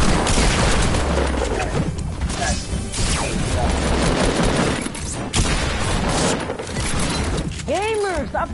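Rapid video-game gunfire during a solo tournament match, with dense repeated shots and crashing impacts filling the scene, and a sweeping tonal effect near the end, heard under players' voices.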